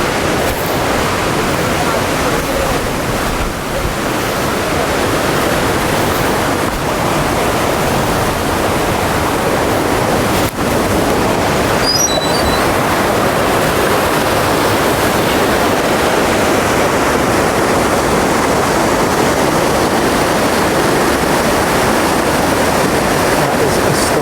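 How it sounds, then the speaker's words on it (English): Pistyll Rhaeadr waterfall pours in a steady, loud, broadband roar that fills the whole stretch without a break, heard from close by through trees with no voices. "you can see the falls through the trees"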